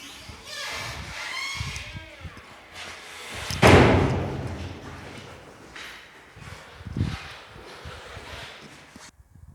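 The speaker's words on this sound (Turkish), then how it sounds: "Kapıyı açtığımız anda karşımızda direkt e, çok geniş bir e, koridor alanı çıkmakta." An apartment's front door opens in a holiday flat on a residential complex in Didim, a single loud clunk and thud midway through, surrounded by shuffling, footsteps and someone talking.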